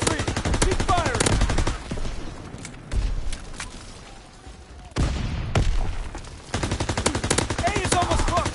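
Rapid bursts of rifle and machine-gun fire in a Call of Duty WW2 multiplayer match, loud, close crackling volleys separated by short pauses, with faint shouting and thuds in between.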